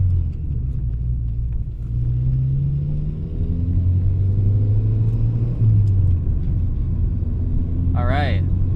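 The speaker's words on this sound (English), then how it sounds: "I hear the gearbox noise you're talking about" Inside a track-prepared Mazda Miata NC on the move, a steady low gearbox drone and road rumble fill the cabin, with a brief squeal-like chirp near the end.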